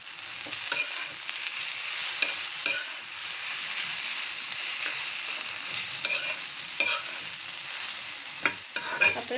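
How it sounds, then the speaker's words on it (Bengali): Raw mango pickle is stirred in a frying pan, a loud close sizzle with repeated scraping stirs and crackling bursts throughout, no voices. "ভালো মতো নেড়ে দিচ্ছি"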